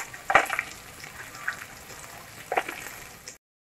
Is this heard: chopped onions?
yes